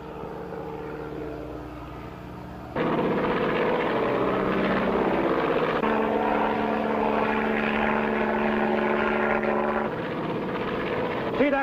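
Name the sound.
seaplane propeller aircraft flying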